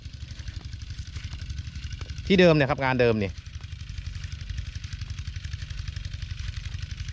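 A small walk-behind tractor engine chugs steadily in a fast, regular putter throughout, with someone speaking briefly over it partway through.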